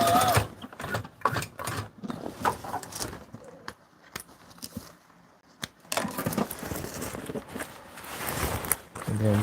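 A sewing machine tacks down a torn-open seam on a flight suit, running in uneven bursts with clacking, mechanical stitching pauses and handling noises, while people talk over it.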